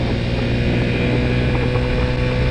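A Chinese 80cc scooter with a 50cc carburettor being ridden during break-in, its engine droning steadily and loudly throughout, mixed with rushing wind noise and no pauses.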